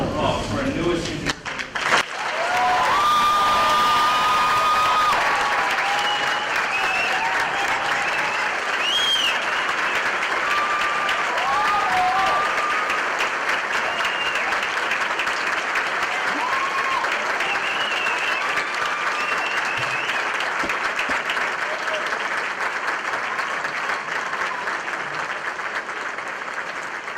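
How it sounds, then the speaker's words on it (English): Sustained crowd applause fills a military graduation ceremony for new Army engineers at Fort Leonard Wood, Missouri, steady and loud for the whole stretch, with a few voices and cheers rising above the clapping. "please join me in a round of applause for our newest engineer"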